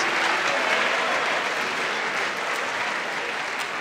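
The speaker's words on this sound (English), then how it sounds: "Let's give every nominee student athlete in the house tonight a round of applause" A crowd at the 2018 Adrian College ACEES awards applauds the nominated student athletes, with dense, continuous clapping filling the room at an even, loud level with no talking.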